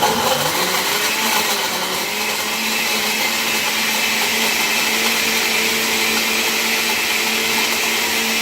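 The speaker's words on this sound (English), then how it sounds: "So let's go ahead and get that blended up." A blender runs steadily at full power, whirring through mango, apple, seedless grapes and strawberries for a berry green smoothie, with a loud, continuous, unbroken motor roar and no voices over it.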